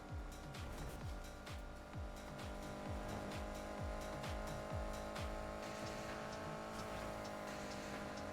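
A car engine in Need for Speed Heat video game revs repeatedly in rising sweeps, a rapid run of accelerating gear pulls under steady road noise, fairly close and sustained.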